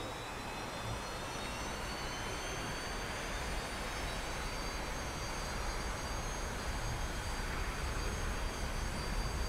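A T-45 trainer jet in DCS roars through its takeoff roll, a steady, broadband engine rumble and whine holding at a constant level with no voices.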